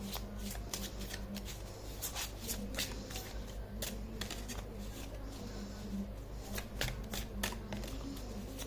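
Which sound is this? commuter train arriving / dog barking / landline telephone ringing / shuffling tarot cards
shuffling tarot cards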